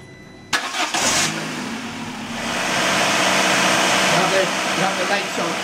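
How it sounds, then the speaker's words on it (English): A Peugeot petrol car engine cranks and fires after a quiet moment, then settles into a steady, fairly loud idle that holds to the end. "what I do now is start the car"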